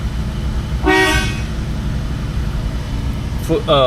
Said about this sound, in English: Horn good.